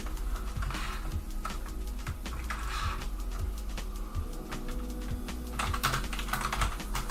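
Rapid keystrokes on a computer keyboard during an online typing test, a fast continuous clatter of close key presses at steady volume with no one speaking.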